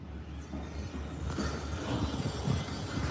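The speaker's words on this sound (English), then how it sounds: "they're building this high rise here. So there's a backhoe there." A backhoe works at a high-rise construction site, giving off a steady low engine rumble and a broad mechanical roar that swells slightly midway, heard from a little distance outdoors.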